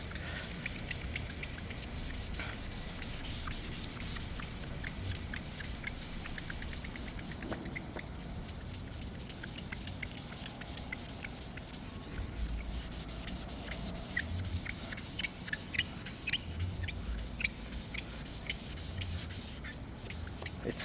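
Polishing liquid rubbed by hand across car windshield glass, a steady scraping, scrubbing friction running continuously at close range with no talk.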